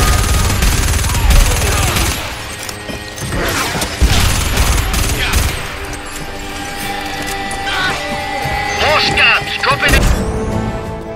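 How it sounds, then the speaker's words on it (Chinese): Intense sci-fi combat from the game Starhawk: rapid automatic gunfire bursts, sharp shots and heavy explosive booms pile up densely with mechanical clanks, loud and continuous with music running underneath. "带着荒野风格的配乐以及各种载具、武器、炮火、爆炸音效，大大的满足玩家的耳朵"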